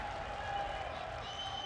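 An audience at a junior Russian wrestling championship applauds a bout victory with steady, moderately faint clapping and crowd noise, under a commentator's voice and a steady tonal hum.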